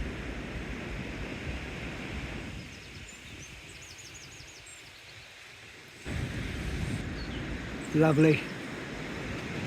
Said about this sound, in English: hopefully you're getting all this noise. All the birds, all the water, all the waves, all the ambience